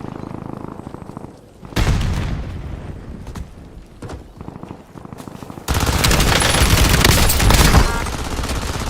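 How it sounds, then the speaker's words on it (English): A video game grenade detonates in a firefight: a sharp broadband blast partway through, then a sustained loud roar of explosion and gunfire that slowly tails off, with rapid shots and clatter throughout. "Incoming grenade."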